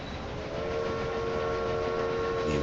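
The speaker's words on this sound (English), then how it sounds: "5 minutes of honking horns." Supply train horns honk in the railway management game Railway Empire 2, with sustained tonal blasts layered over a steady rumble of rolling trains, continuous and moderately loud with no voices.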